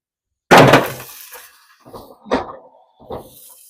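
Ice cubes dropped into a hot Dutch oven holding sourdough give one loud clattering hit, then a short fading hiss, followed by two smaller knocks a little later.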